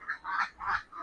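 Laying ducks in a coop give a quick run of about four nasal quacks, close and moderately loud, with no voices.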